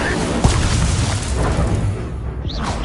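A fire-spell blast cast in a Hogwarts video game, a loud booming burst at the start followed by rumbling crackle and a dense, noisy wash, with a voice speaking over the effects.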